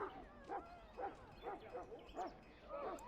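A Mabari war hound in Dragon Age: Origins lets out a run of short, evenly spaced yips and barks, about six in three seconds, sitting moderately close over a quiet background.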